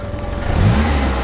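Engine of a Series 1 classic car revving up, heard close from inside the car: a short, rising mid-pitched roar over about a second, low in register and loud.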